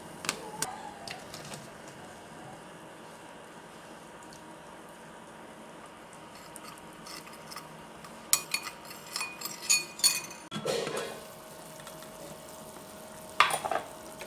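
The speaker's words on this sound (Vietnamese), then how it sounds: "Bây giờ mình vừa khuấy vừa cho từ từ lòng trắng trứng vào." A spoon stirs carrot corn soup in a pot while egg white is slowly poured in, giving quiet scraping and a soft simmer, then a few metal clinks and clatters against the pot near the end.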